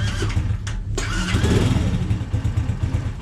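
Forte 125 motorcycle engine starting up close: a short crank and catch, then a steady, loud mid-pitched running rumble with no voices.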